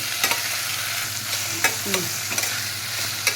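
Half-cooked onions and tomatoes for Bombay chutney sizzle in a pan, a close, steady frying hiss punctuated by several sharp scrapes and taps of a spoon stirring them together.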